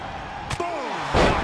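A wrestler hits the mat with a loud slam in the WWE 2K22 video game, a single heavy impact landing amid steady crowd noise and followed by another burst of sound.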